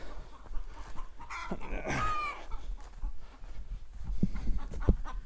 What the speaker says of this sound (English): they're cackling back and forth trying to figure out where they are